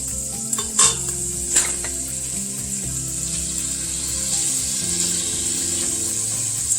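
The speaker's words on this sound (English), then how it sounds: "we're going to brown that on all" Beef browning in a pan for stew, a steady loud sizzle with a few sharp clicks and scrapes of turning the meat, no talk.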